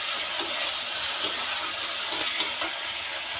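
Onion and tomato frying in a wok with mustard paste being added, a steady loud sizzle with faint stirring knocks, close and alone.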